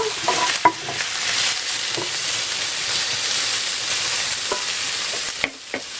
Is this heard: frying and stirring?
yes